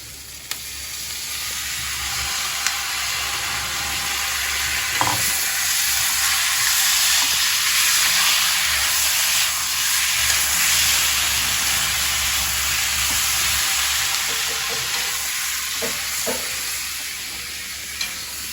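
Chopped tomatoes sauté in hot oil in a pan for homestyle chana masala, a constant close sizzle with occasional spoon scrapes and stirring knocks; no one speaks.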